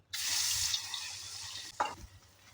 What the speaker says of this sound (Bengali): তেলটাও গরম হয়ে গেছে গা মাছটাও দিয়ে দেই মাছটা দিয়ে দিই তেলটা গরম হয়েছে